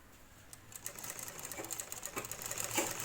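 Sewing machine stitching a sleeve onto the shoulder seam of a stylish girls' top or kurti, a steady close mechanical whir with rapid needle clatter that builds slightly in intensity.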